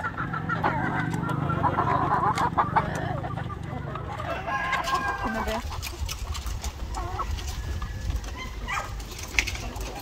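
Chickens on a farm cluck continuously while roosters crow now and then, a busy close flock with scattered calls overlapping throughout.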